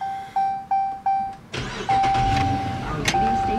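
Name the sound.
2015 Dodge Charger 5.7 HEMI engine starting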